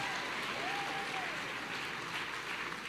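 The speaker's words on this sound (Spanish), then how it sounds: "Dale ese fuerte aplauso al que vive y reina por los siglos de los siglos" Congregation applauding during a church service, a faint, steady wash of clapping heard from a distance, even and unbroken throughout.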